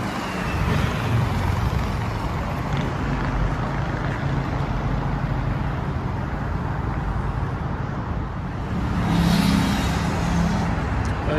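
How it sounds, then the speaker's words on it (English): Continuous highway traffic near Paris rushes past, a steady broadband roar of cars and trucks with one louder vehicle passing near the end. "Highway again, same highway."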